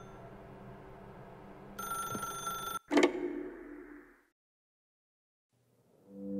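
A telephone rings in the video game The Stanley Parable. A bright electronic ring sounds close and clear, ends in a sharp click, decays into a brief fading tone, then gives way to silence before a faint new sound begins.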